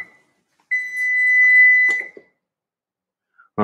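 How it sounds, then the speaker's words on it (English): A kitchen timer goes off while chickpeas roast in the oven: one sustained electronic beep lasting about a second and a half, clear and fairly loud in a quiet room, followed by a few soft clatters. "There's the timer."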